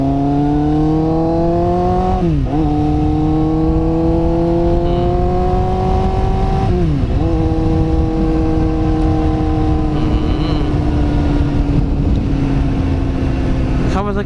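A black-and-red Kawasaki Z800 with a Daivo exhaust runs loud and close, its tone climbing steadily, dipping sharply twice, then climbing again and settling over fourteen seconds.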